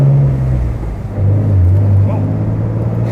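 A 3.5L EcoBoost-swapped Mustang runs with a steady, loud low engine drone that rises slightly in pitch partway through, with voices talking over it.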